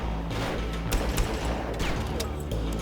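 Gunfire in the shooter game Far Cry, aboard an aircraft carrier: a dense, continuous spatter of shots and impacts with a few sharper cracks over steady background noise, at close range.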